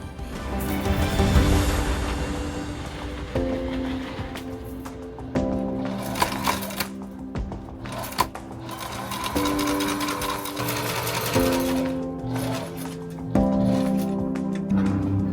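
A sewing machine stitches fabric pieces aboard a sailboat in close, loud bursts of rapid mechanical whirring. The bursts are separated by short pauses and occasional clinks.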